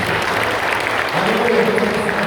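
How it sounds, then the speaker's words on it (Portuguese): Church congregation clapping in a steady patter for a couple of seconds, a voice briefly audible over the applause near the end. "Vamos aplaudir o Senhor Jesus."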